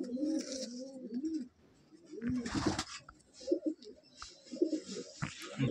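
Madrasi and Giribaj pigeons in a loft give repeated low, throaty coos in short bursts, close and fairly clear, with a few rustling and handling noises in between.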